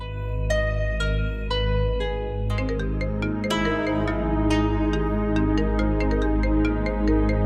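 A phone ringtone from a Pakistani TV drama plays alone as a loud, repeating melodic tune with a sustained musical backing underneath, no talk over it.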